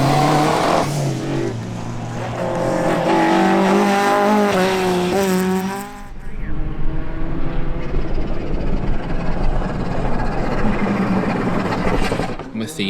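A Group A four-wheel-drive Subaru Impreza rally car roars past with revving engine and tire noise, then gravel spray and rumble as it drives away, with a commentator talking over it.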